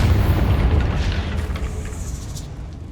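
Confringo fire spell blast in Hogwarts Legacy, a deep heavy boom that rumbles and slowly fades over a few seconds, with a faint crackling tail.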